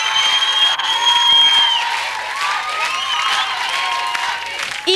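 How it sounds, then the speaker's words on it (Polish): A studio audience applauds at a televised children's Eurovision national concert, dense loud clapping with some cheering and crowd voices, a few whistle-like tones over it, sustained throughout. "Wielkie brawa dla wszystkich występujących w dzisiejszym koncercie."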